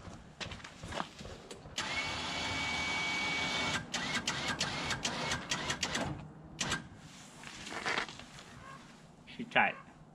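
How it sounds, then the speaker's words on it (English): An electric winch pulls a UTV, a whirring motor drone rising and stopping in several bursts, with clicks and clanks between runs and people talking nearby. "We're gonna use the winch."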